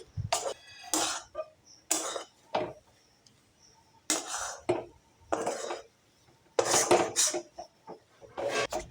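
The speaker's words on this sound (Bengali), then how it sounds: "দিয়ে আবারও ভালো করে মিশিয়ে নিচ্ছি" Utensil scraping and knocking against a bowl while spiced mashed potato filling for vegetarian Bengali aloo chop is mixed; irregular bursts of clatter and rubbing with quiet gaps between, fairly close.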